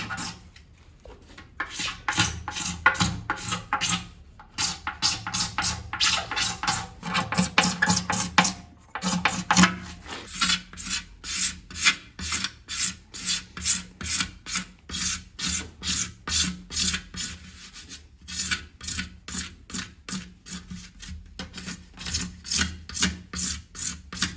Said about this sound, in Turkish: parlak yüzeylerin üzerine gelmiş polyesterleri temizleyeceğim.